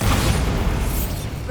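A Bombarda spell explosion in Hogwarts Legacy, a dense, loud, rumbling blast that fills the whole short moment without letup.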